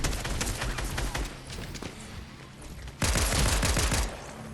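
Rapid gunfire bursts from an SMG and a Glock in the video game Fortnite, dense crackling volleys that dip briefly and then resume loudly for about a second.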